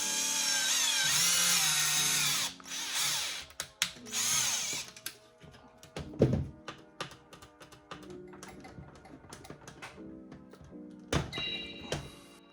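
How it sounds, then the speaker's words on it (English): A power drill bores a hole into a Ghostbusters proton wand prop during a GPStar kit install, whirring loudly at first then breaking into short bursts and clunks, with no talking. "you can take a drill to drill a hole"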